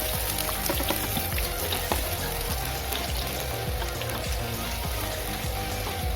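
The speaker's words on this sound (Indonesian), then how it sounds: "Kita tumis sampai harum ya." Garlic, shallots, lemongrass and ginger sautéing in hot oil, a dense, even crackling sizzle that carries on without pause, no voices.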